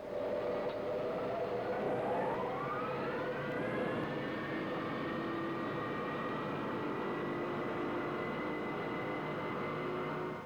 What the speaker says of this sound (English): Cinco 24 clear for takeoff. Files clear. Cinco 24 Heavy. Advancing throttles now.